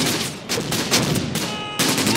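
Panzer Grenadier infantry open fire in the Close Combat: Gateway to Caen wartime strategy game, with bursts of rifle and machine-gun shots crackling in overlapping volleys, loud and steady with brief gaps.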